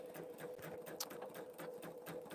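A Pfaff Creative Vision embroidery machine stitches steadily, a quiet fast needle rhythm of regular mechanical pulses with a constant motor hum, heard alone and close.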